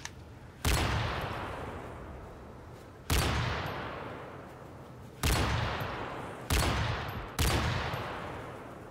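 Five sharp, loud quick-scope rifle shots from an Xbox 360 shooter game ring out one at a time, each with a long fading tail, spaced unevenly over several seconds.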